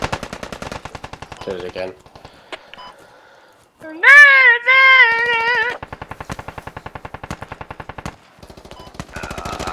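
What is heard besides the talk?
gunfire from a video game gun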